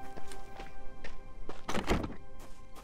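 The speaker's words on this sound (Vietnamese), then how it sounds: "nghe tiếng chân" Footsteps in the survival game The Front: a series of soft, dull thuds at an uneven pace, with one louder, heavier impact near the middle, over a muffled ambient background.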